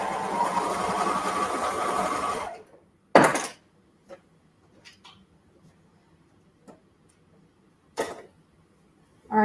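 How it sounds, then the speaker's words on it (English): A sewing machine runs steadily for about two seconds while stitching the second shoulder seam of a ruffle dress. It then stops, leaving brief clicks and a few short, sharp knocks in near-silence. "I'm sewing that second shoulder seam, keeping all the edges lined up"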